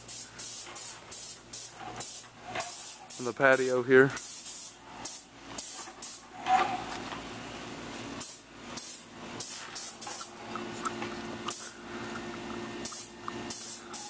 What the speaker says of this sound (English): Still got just a little bit of spraying going